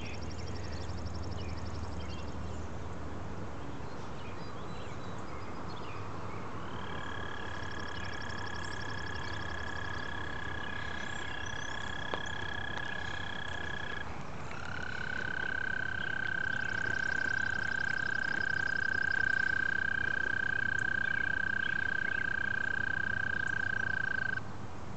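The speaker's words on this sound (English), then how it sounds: "there's frogs down here too at the pond" Frogs croaking at a pond late at night, a steady dense chorus of calls with long sustained trilling tones rising out of the background din, continuous and moderately distant with no talking.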